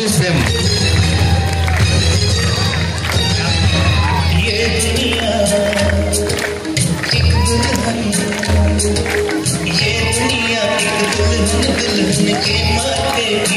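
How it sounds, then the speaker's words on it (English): Audience at an "I love my India" stage performance cheering, whooping and shouting, a loud dense crowd roar running unbroken through the whole stretch. "Let's give them a big round of applause and boost them."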